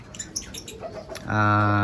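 A pair of big African lovebirds in a breeding setup chirp in quick, bright bursts close by, then a steady, buzzy tone takes over at the end.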